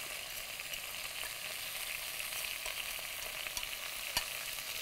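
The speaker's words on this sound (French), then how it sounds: "je vais rajouter par-dessus ma viande mes oignons, mon ail et puis le bacon" Onions, garlic and bacon fry over hare meat in a pan, a soft, even sizzle throughout with a few faint clicks, fairly quiet and with no voices.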